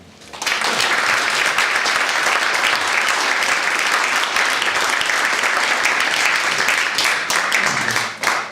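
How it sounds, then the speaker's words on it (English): A studio comedy audience breaks into sustained applause that starts abruptly, holds loud and dense for several seconds, then tapers near the end. "let's have a round of applause for John the Forerunner."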